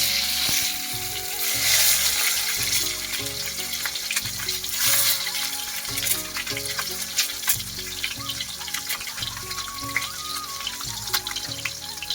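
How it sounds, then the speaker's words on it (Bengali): Peeled boiled eggs coated in salt and turmeric fry in oil, a loud, constant close sizzle with bubbling and spattering, plus stirring and clinking against the pan throughout. "ডিমগুলোকে ভালোভাবে ভেজে নেব"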